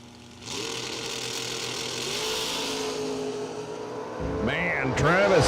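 Drag race cars, a Nova and a DK Camaro, rumble at the line with a steady engine drone, then rev sharply in repeated loud bursts near the end, under a commentator's voice.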